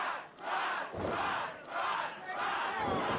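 Wrestling crowd at an independent show in Monroe, Michigan, reacting hostilely, loud surging waves of jeering and shouting that rise and fall several times.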